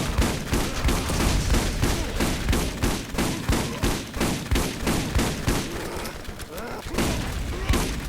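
The Orion weapon in the video game Borderlands fires in a rapid, relentless burst of loud, punchy shots with heavy thumps. It keeps going almost without pause for the whole stretch.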